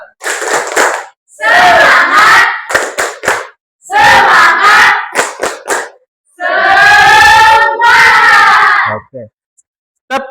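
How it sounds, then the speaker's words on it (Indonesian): A school class gives a rhythmic spirit clap in loud bursts, their clapping mixed with energetic group chanting and shouting, pausing briefly between each round. "Kita berikan tepuk semangat."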